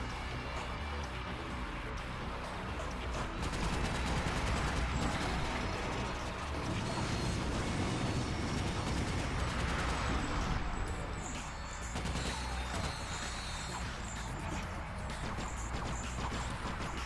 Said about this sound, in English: I really like these SMGs.